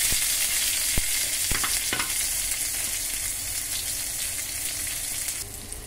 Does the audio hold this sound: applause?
no